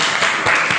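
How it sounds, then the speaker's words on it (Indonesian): A brief burst of applause from a class group in a group counseling session, quick overlapping claps lasting under a second. "Oke, tepuk tangan untuk kelompok 1."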